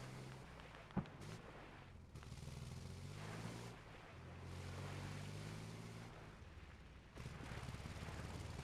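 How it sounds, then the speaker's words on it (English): Military amphibious vehicles plow through big ocean surf, with a steady roar of breaking waves and wind, churning water and engine rumble, and a sharp splash-slap near the start. "Just the splashing"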